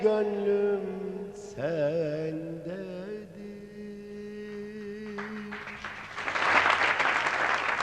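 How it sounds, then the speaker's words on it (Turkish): Studio audience on a Turkish TV variety show bursts into applause after a sung passage, the clapping swelling loud near the end as the melodic singing and held notes fade out. "Hadi bunu ara alkış olarak kabul ediyorum"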